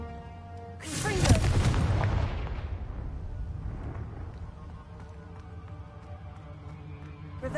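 Confringo fire spell blasting in Hogwarts Legacy, a single loud booming explosion that rolls out and decays over a few seconds, with game music continuing underneath.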